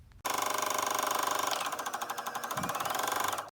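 A sewing machine runs a single straight seam down a tote bag with pockets, giving a fast, steady mechanical chatter of stitches. It is close and loud, running continuously for about three seconds before stopping abruptly.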